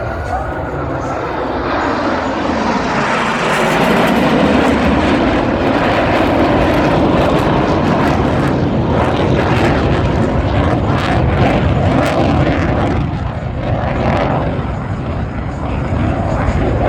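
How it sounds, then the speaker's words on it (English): Blue Angels jets at the 2025 Columbus airshow break from diamond formation, and their engines make a loud, continuous roar that swells and holds across the sky, with announcer speech underneath. "each pilot will execute an individual brake turn and exit the flight line in a separate direction."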